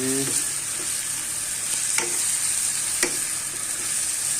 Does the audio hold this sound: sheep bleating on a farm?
no